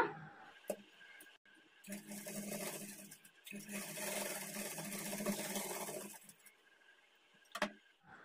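A sewing machine stitches the main dart of a plain blouse, running close in a long steady whirring burst between short starts and stops, with brief quiet handling gaps before and after.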